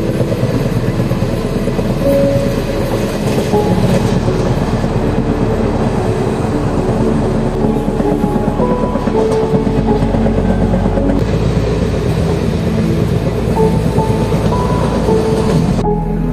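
Wainganga SF Express train rolling along the rails between Bengaluru and Hyderabad, heard from inside as a loud, continuous rumble with steady clickety-clack of wheels over rail joints throughout.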